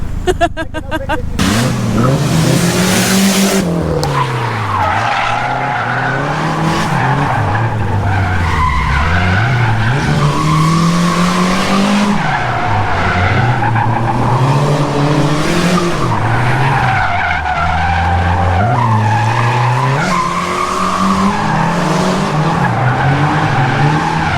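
A car drifts through a gymkhana course, tires skidding and squealing in long repeated sweeps as the engine revs rise and fall, loud and close throughout.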